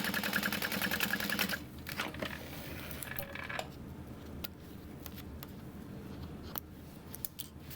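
Sewing machine stitching down a raw fabric edge on a backpack, a fast mechanical whir at first that drops off into quieter clicks and scattered ticks, no talking.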